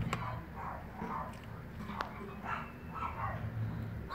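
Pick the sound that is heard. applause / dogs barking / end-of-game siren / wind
dogs barking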